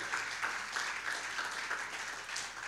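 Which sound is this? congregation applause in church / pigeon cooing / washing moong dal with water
congregation applause in church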